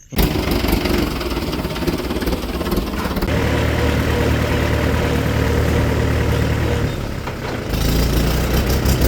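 A farm tractor's engine runs close by with a loud, rough, continuous rumble, its tone shifting partway through before settling again.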